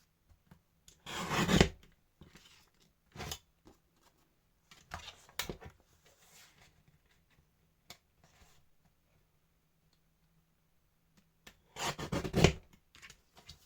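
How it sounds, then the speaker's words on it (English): Short crisp cutting strokes from a mini paper trimmer slicing through card, sounding in several separate bursts with quiet gaps and faint handling noises between them, close up and alone. "I'm just going to bring in my mini trimmer."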